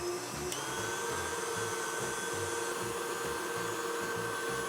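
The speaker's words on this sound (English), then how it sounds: "We can add our eggs one at a time, mixing in between each addition." An electric mixer beats eggs into butter and sugar for a Greek apple cake batter, giving a steady, continuous motor whir at close range with no pauses.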